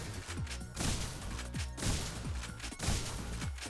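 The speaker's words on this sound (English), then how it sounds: "So with Dragon's Breath, we use the shotgun." A video-game shotgun loaded with Dragon's Breath fire rounds fires repeated heavy booming blasts, roughly one every second, each with a crackling tail, loud and close with no talk.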